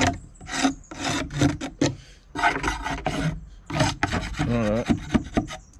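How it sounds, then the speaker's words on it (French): A scraper rasps across the surface of a heated wooden beehive in a quick series of close, gritty strokes, each short scrape following the last in an uneven rhythm. "On peut faire un dernier petit coup de gratte."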